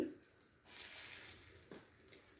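Turmeric powder and salt being stirred into hot oil for a katla fish curry with mango paste, giving a steady close sizzle that swells after a short scrape at the start, with a brief spoon scrape later.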